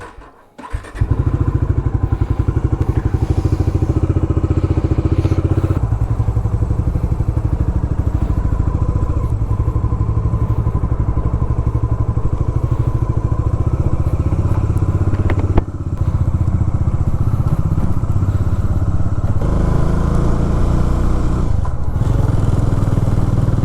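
A motorcycle engine idles steadily to warm up on a cold morning in Kodaikanal after a rainy night. The close, loud, continuous rumble has a faint rattle and one brief thump partway through.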